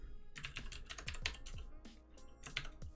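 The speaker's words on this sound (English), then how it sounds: "I'm using my mechanical keyboard, which has cherry blue keys. So you might hear a lot of keystrokes in this video." Fast, clicky keystrokes on a mechanical keyboard with Cherry Blue switches, typed close up in irregular bursts with short pauses and no talking.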